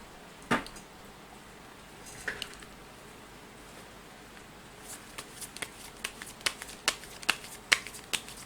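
Tarot cards shuffled for a daily fortune reading, heard as a few soft, scattered riffles early on, then a quick run of crisp snapping card flicks near the microphone in a quiet room.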